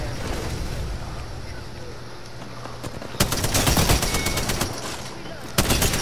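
Rapid automatic gunfire in a video game, two loud bursts of machine-gun fire cutting through a windy, noisy game background, with players talking over it.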